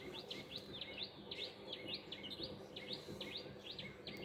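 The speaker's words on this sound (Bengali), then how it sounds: "সেখানে পাখির কোলাহল শুনতে পাবেন" Small birds twitter and chirp in quick repeated bursts beside a tin-roofed house near a jujube tree, faint and slightly distant over a low, steady outdoor hum.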